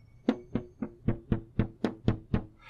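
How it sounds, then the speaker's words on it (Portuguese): Nine crisp, brighter knocks in an even rhythm, each a sharp percussive hit that rings briefly before the next, with no talking. "é uma frequência mais alta que gera um som um pouco mais agudo"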